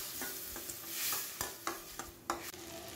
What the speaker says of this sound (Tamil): 1-5 நிமிஷம் இதோட பச்சை வாசனை போகிற அளவுக்கு வதக்கி விட்டுக்கலாம்.